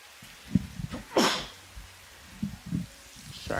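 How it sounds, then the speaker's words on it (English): A single sharp, close sneeze from an indoor gamer, preceded and followed by small mouth and breathing noises. "Had to sneeze."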